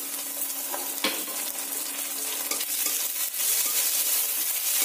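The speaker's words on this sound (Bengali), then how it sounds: "পেঁয়াজ আদা রসুন খুব ভালো করে কষিয়ে নিতে হবে" Onion, ginger paste and garlic frying in a pan for an egg and potato curry: a dense, close sizzle continues throughout, with a few sharp clinks and scrapes of a spoon stirring.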